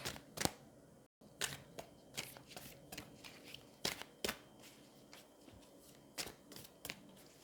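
Oracle cards are shuffled and drawn up close, with crisp riffling snaps and soft card slides coming in irregular bursts against a quiet room.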